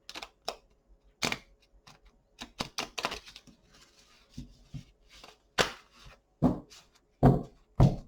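Tarot cards are handled and shuffled in a sequence of sharp, close slaps and riffles, each separated by a short pause. No one speaks.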